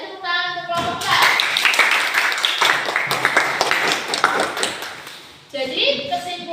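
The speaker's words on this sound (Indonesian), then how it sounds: "beri tepuk tangan untuk kelompok 4" A class of students claps for group 4 after their ecosystem model presentation in a classroom: a sustained burst of many hands clapping, loud and close, framed by a teacher's voice speaking before and after.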